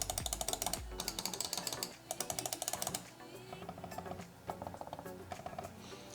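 Repeated clicking of a Logitech MX Master 3 mouse, bursts of quick, crisp clicks in close succession with short pauses between runs, close and fairly quiet, no talk.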